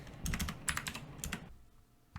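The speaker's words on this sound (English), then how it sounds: "I've finished typing in some of the basics here" Quick, irregular bursts of keystrokes on a computer keyboard sound fairly close and quiet, then pause, with one final isolated tap.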